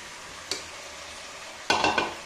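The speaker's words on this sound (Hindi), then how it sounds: "अभी हम इसमें चने को डालेंगे।" Chickpeas being stirred into spiced potatoes frying in a pan, giving a soft sizzle with a light clatter at first, then a louder burst of scraping and sizzling near the end.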